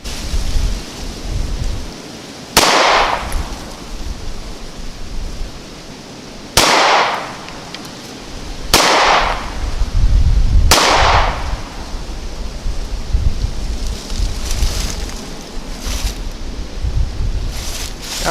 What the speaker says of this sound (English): and then we're going to start shooting.